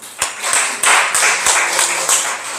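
A congregation at a Sunday worship service claps in a regular beat, each crisp, loud clap ringing out in steady succession with a faint low tone underneath.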